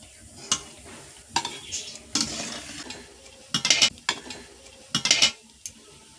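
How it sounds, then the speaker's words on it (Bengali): Khaja pastries fry in hot oil, giving a soft sizzle broken by clinks and scrapes of a utensil stirring and lifting them from the pan, in several short bursts. "এইভাবে সবগুলো আবার ভেজে নেব"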